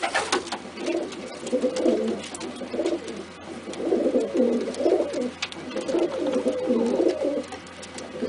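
Close, continuous cooing from a pet pigeon: repeated low, throaty rolling phrases in steady bursts over several seconds, alone without speech.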